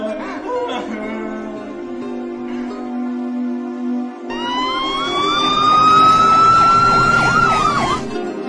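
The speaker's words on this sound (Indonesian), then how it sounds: "dari kejauhan terdengar suara sirine mobil polisi" A police car siren wails from a distance, first as a lower steady tone, then a louder rising-and-falling electronic whoop over the second half, with no talking.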